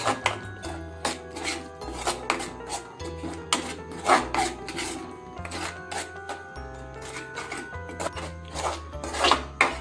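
Crab masala sautéed in a pan: a spoon scrapes and stirs continuously in rhythmic strokes, with a steady frying sizzle underneath, close and moderately loud.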